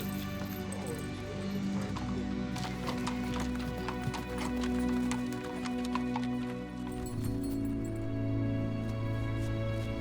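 Steady clip-clop of hooves from several horses walking along, with a neigh, low engine-like hum and faint voices in the background.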